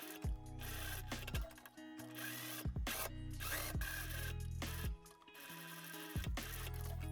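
Sewing machine stitching a collar facing along its fold line for an Edwardian-style winter dress, running in several short bursts separated by brief pauses, close and clear.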